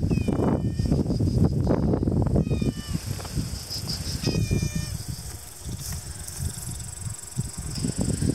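A big cat meows several times in short, rising cries spread across the stretch, over closer rustling and handling noises near a house.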